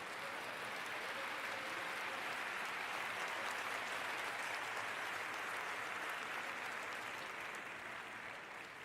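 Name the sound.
congregation applause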